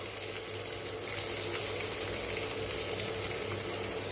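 Sliced onions frying in hot oil for fried rice give a dense, loud, continuous close-up sizzle that holds steady without pause.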